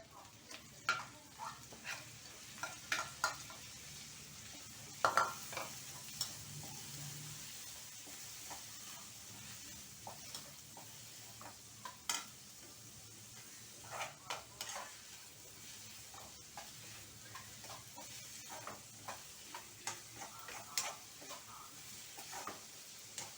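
Chopped onion and capsicum, salted beforehand, stir-frying in a pan, with a soft steady sizzle broken by scattered scraping clicks of a spatula stirring, fairly quiet and close throughout.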